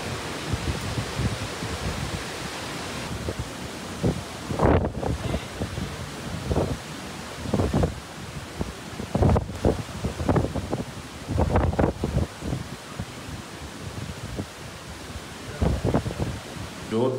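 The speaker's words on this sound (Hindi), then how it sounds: "मैंने कहा थोड़ी हवा चलना शुरू हुई है" Wind gusting outdoors during stormy weather in Sri Lanka, a steady broad rush with louder buffeting bursts throughout, close to the microphone and heard alone.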